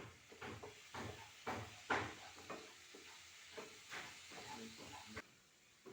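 Chicken curry ingredients with salt stirred in a pan, a quiet hiss of sizzling with repeated scraping strokes of a spoon in an irregular rhythm.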